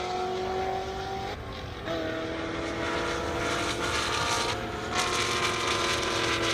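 Corvette Z06 race cars accelerate hard off the line at an airstrip racing event, a loud sustained engine roar with rising whine that swells and shifts as the cars pull away, steady throughout with no talk.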